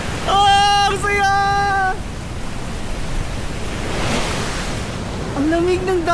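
Sea waves wash steadily against the shore at Sabtang Island, a continuous broadband surf, while excited voices shout and cry out at the start and again near the end.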